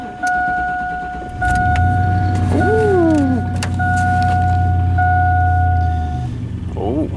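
A frosted-up car on a cold morning starts and idles loudly and steadily at close range, with a low engine drone throughout, brief tonal whines, and a voice talking over it.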